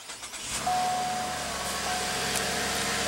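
2015 Cadillac SRX 3.6 liter V6 catching and settling into a steady, faint idle, heard from inside the car with a thin whine above the low hum.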